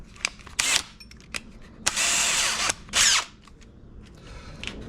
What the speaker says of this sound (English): Okay, grab my drill.